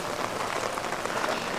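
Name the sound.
light drizzle and heavy rain at a resort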